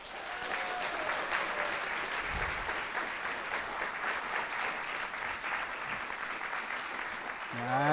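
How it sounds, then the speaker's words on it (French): Audience clapping steadily throughout an evening event welcoming a guest onstage, a dense, continuous wash of applause from a sizable crowd at fairly even loudness. "on va faire quelque chose que vous n'avez pas fait depuis très très très longtemps pour certains, c'est-à-dire c'est applaudir"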